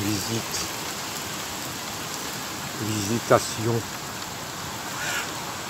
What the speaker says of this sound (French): on entend que la pluie